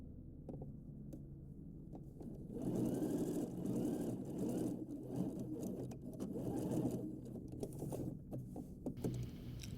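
An overlocker runs along a curved seam on girls' shorts with its knife engaged, a fairly soft, steady whirring hum that swells and eases in short bursts, close by and without speech.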